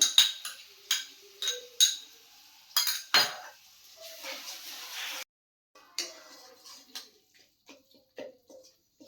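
Melon seeds are stirred and fried in a pan, with sharp metallic clinks and scrapes of a utensil against the pan coming in bursts, close by, with a brief pause partway through.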